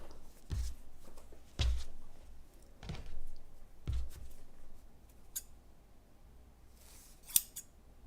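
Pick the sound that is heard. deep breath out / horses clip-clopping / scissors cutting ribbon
scissors cutting ribbon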